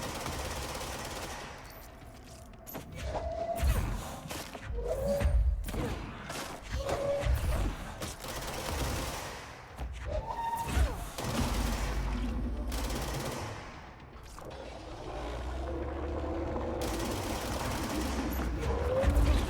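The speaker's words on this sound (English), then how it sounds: "I'm gonna shoot this." Gunfire in the video game Control comes as bursts of rapid shots and heavy thuds spread across the stretch, loud and close, with quieter gaps and a rumbling ambient background between volleys.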